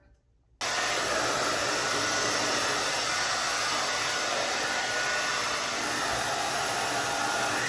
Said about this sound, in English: It's been almost 45 minutes that I've been blow drying my hair currently, and I still have half of my head to go.